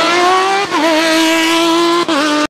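A toy F1 race car gives off a loud, close electronic engine whine that holds a steady pitch, dipping briefly twice like a gear shift before cutting off.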